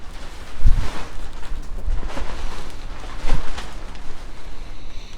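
Wind gusts buffet an outdoor spot where cigars are smoked, a steady broadband rush with louder low thumps of microphone buffeting, no talk.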